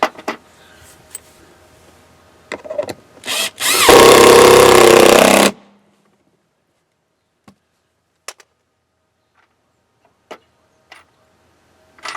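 A power drill drives a 2.5 inch flathead square drive screw through a custom mounting block for exterior lighting, one loud sustained whir lasting under two seconds, framed by small handling clicks and knocks.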